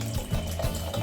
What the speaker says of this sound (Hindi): फेंटने के बाद इसमें हम पानी मिला देंगे।